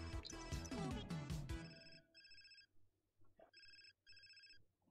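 A telephone bell rings in repeated bursts, two double rings with short pauses between them, fairly clear and alone after a fading burst of music.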